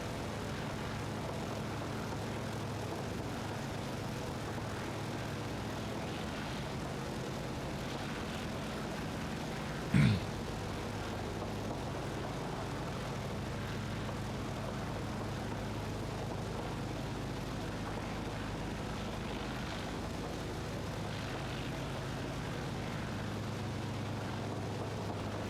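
A Boeing 247D's propeller engines drone steadily in Microsoft Flight Simulator, a constant even hum lasting the whole stretch with one brief sharp click partway through.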